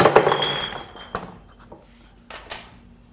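A hammer smashing a tape, a loud clattering crash of breaking plastic at the start that fades, followed by a few sharp scattered knocks and clinks.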